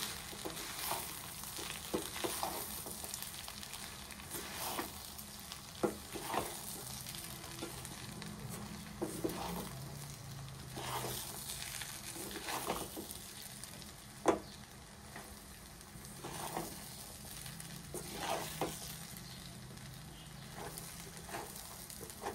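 Soaked flattened rice (poha) being mixed and stirred in a pan, a steady soft sizzle with scraping spatula strokes recurring every second or two, close and moderately loud, no talking.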